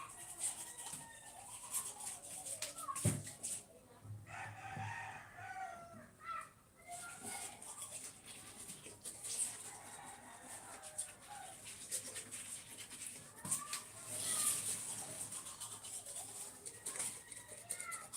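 A rooster crows several times at a distance in a rural yard, drawn-out calls rising over faint background noise and occasional soft handling sounds.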